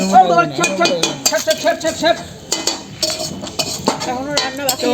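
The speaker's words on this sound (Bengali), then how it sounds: "আমাদের রান্না এখনো চলছে, মোটামুটি শেষের পথে।" Pots and metal utensils clatter and scrape steadily while chicken kebab cooks outdoors over a wood-fired clay stove, with repeated close clinks and stirring knocks and no talk.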